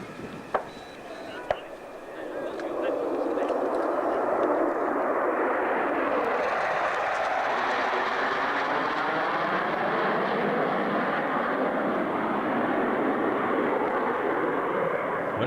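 A swing-wing F-111 jet roars past: the sound builds quickly after a quieter start into a loud, sustained, rumbling engine wash that slowly shifts in pitch as it passes.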